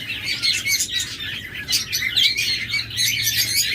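Caged pet birds for sale, lovebirds and cockatiels among them, chirp and call nonstop in a dense, overlapping chatter over a faint steady hum.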